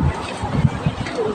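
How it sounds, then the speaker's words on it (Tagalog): Gusty wind rushes and buffets the microphone near Marina Bay Sands and Merlion Park in Singapore, a steady roar with low rumbling thumps throughout. "Hangin lang."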